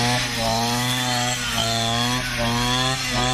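A Thai-made Martens model 230 brush cutter runs loud and close, its small engine droning steadily with slight rises and dips in pitch as it chews through thick grass, no talking.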